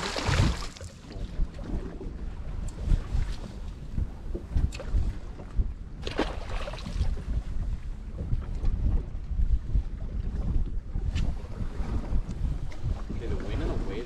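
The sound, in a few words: wind blowing over water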